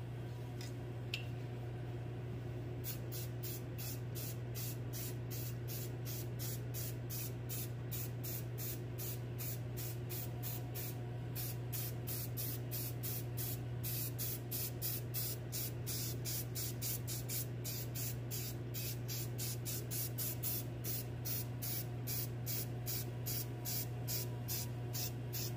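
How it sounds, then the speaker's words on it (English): Rust-Oleum 2X flat black primer spray paint sprays from an aerosol can in many short, light bursts, a rapid regular series of close hissing spurts over a steady low hum, with no talking. "Again, I used the Rust-Oleum 2X flat black primer."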